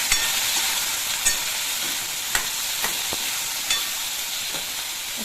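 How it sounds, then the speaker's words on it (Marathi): Potatoes sautéing in a pan with curry leaves give a steady, close sizzle, with sharp spatula scrapes and clacks against the pan every second or so. "आता बटाटे घालूया आपण, सगळं व्यवस्थित परतून घेऊया आपण बटाटे"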